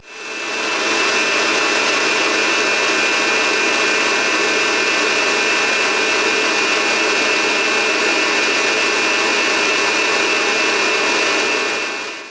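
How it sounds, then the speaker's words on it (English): Buttercream whisked in a stand mixer, a loud, steady, close motorized whirr with a high whine that continues unbroken throughout, no voices. "while the buttercream was whisking, you saw me add in the sugar syrup"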